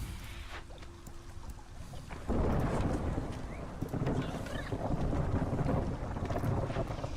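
Stormy weather from the strategy game Against the Storm: a steady roar of rain and wind with low rumbling swells, growing louder and denser partway through and holding as a continuous wash with no talking.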